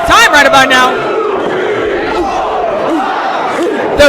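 A wrestling crowd cheers and yells at a live match, loud and close, with sharp shouted bursts at the start and end and a sustained roar between them.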